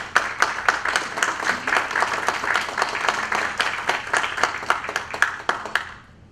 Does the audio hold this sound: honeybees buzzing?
no